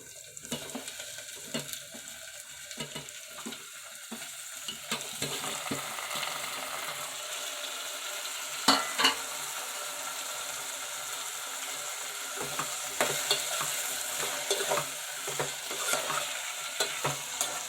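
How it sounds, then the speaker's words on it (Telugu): Onions frying in oil in a pan for a dried fish and egg curry, a steady sizzle under frequent scraping stir strokes and clinks of a spoon, with occasional louder knocks; no one talks. "ఉల్లిపాయలు బాగా వేగాలి. ఉల్లిపాయలు కొంచెం బాగా వేగితేండి బాగుంటుంది కూర"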